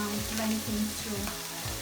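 Vegetables for a vegan dish sautéing in a pot, with a steady sizzle and frying crackle along with periodic stirring scrapes, close and continuous with no talk.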